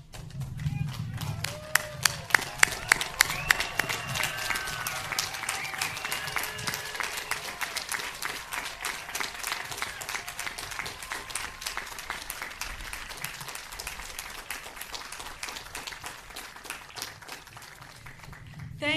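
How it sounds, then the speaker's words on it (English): Audience at a 2021 graduate commencement ceremony standing to applaud the graduates, a steady wash of clapping across a large hall with a few sharper claps early on and voices murmuring underneath. "So if we could all stand and applaud them."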